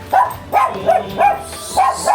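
A dog in the Philippines barks five times in a steady rhythm, sharp and fairly close, with short pauses between each bark.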